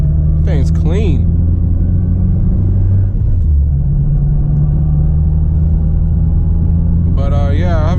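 A 600hp turbo Honda Civic Si cruises with a steady, loud low engine rumble inside the cabin, while someone talks over it at the start and end.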